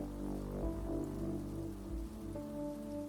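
Video game rain falling steadily on a nighttime street, a soft continuous patter under low droning music tones, quiet and alone with no voices.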